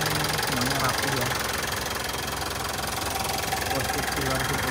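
A 2015 Mitsubishi Pajero Dakar VGT automatic diesel idles steadily with a low, even rumble and faint knocking texture throughout, heard up close.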